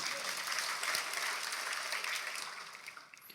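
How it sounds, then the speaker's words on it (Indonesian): A church congregation at an Indonesian sermon on miracles breaks into applause, a broad, even patter of many hands that holds steady, then thins and fades over the final second. "Kita beri tepuk tangan untuk kebenaran ini."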